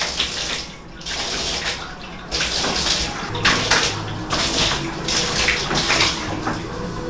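Water runs steadily from a multi-sided shower in a cruise ship suite bathroom, a broad continuous spray hiss with small shifts in flow, close by and fairly loud, with no talking.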